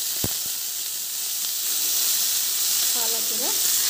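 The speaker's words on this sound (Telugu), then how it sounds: "వేయించుకుందాం ఒకదాని తర్వాత." Leafy greens such as spinach, amaranth and fenugreek leaves fry in about two spoons of hot oil, giving a steady close hiss and sizzle with a brief clink near the start and faint tonal noises toward the end.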